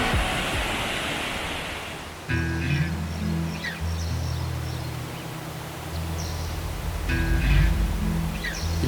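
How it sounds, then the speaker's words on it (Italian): Waterfall at Krka National Park in Croatia, one of its seven cascades, roars as a steady broadband rush, with background music audible over the water. "Ha ben 7 cascate e la più famosa è quella di Skradinski Buk."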